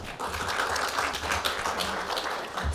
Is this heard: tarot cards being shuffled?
no